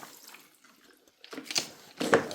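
Water flowing out of a mop bucket splashes and trickles in short bursts, soft at first and then louder, close by.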